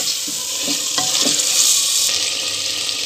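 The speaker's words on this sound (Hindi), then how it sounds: "इसमें मैंने लहसन और अदरक का पेस्ट ऐड कर दिया और इसको मज़ीद में एक मिनट और पका लूँगा पैन मिक्स करके" Garlic-ginger paste fries in a pan for chicken matar, a loud, steady sizzle with a few soft scraping strokes as it is mixed, close and continuous with no talking.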